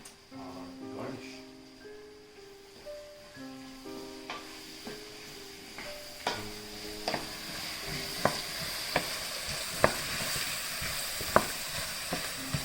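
Ground beef frying in a pan for chili con carne sizzles steadily up close, with rhythmic stirring and scraping clicks against the pan, while music plays softly underneath.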